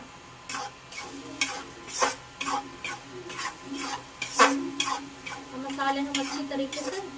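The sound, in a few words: spice masala frying and being stirred in a pan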